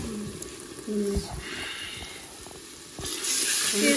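Potatoes and peas frying in oil for aloo matar, a moderate sizzle that swells with stirring and clinks of a utensil, with someone talking intermittently over the cooking.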